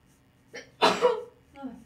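A sharp sneeze from a sick woman indoors, one loud explosive burst with a softer intake just before and a brief trailing sound after, close to the listener.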